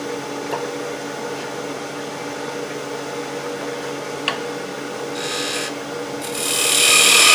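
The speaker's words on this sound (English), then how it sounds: "And I'm just using the parting tool." A parting tool cuts into wood spinning on a lathe, giving a steady whirring hum with a grinding hiss that swells louder toward the end.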